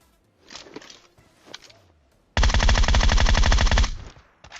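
Groza assault rifle fire in a battle royale shooter game: a sustained loud, rapid automatic burst of about a second and a half, preceded by quieter footsteps and small scuffling sounds.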